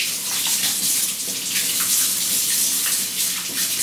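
Water from a kitchen tap runs steadily while juicer parts are scrubbed and rinsed with a brush, giving a continuous close splashing hiss with light brushing and knocking throughout and no talking.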